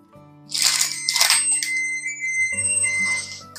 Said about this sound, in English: That's just my oven letting me know that my door is open.